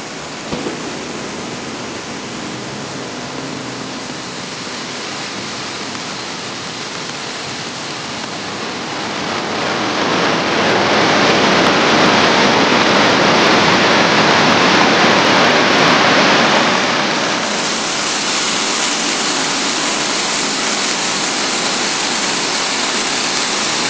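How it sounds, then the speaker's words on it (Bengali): Bamni Falls waterfall pouring down into a lake below, a steady broad roar of rushing water that swells louder in the middle before easing slightly, with no voices. "এইখান থেকে এইবার এই জল নিচে ওই লেকটায় চলে যাচ্ছে"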